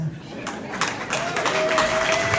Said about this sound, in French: Retenez vos applaudissements